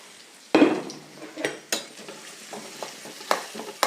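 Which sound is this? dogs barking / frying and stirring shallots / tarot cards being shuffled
frying and stirring shallots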